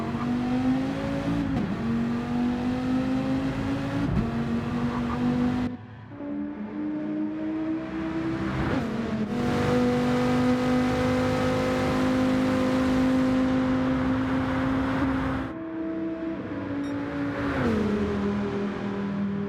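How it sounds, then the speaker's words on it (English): A race car at full throttle down Conrad Straight at Mount Panorama, its engine a loud, sustained high-revving drone climbing through the gears, with brief lifts at each shift and no voices. "Full throttle all the way down the Conrad Straight"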